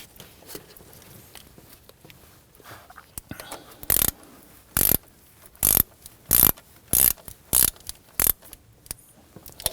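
A ratchet snugs down the bolts on a thermostat housing of a 2011-2015 Kia Sorento, giving several short, sharp bursts of rapid clicking close by, separated by brief quiet pauses.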